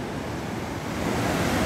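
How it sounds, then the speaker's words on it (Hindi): Water rushes steadily beneath a bridge near a village waterfall, a broad continuous roar close by with no voices over it. "मेरे नीचे देखो जस्ट बहता पानी।"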